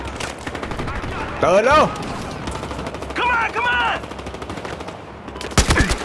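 Rapid automatic gunfire in the Battlefield Hardline multiplayer shooter, a dense continuous rattle of shots running throughout, with a voice speaking briefly over it in short bursts.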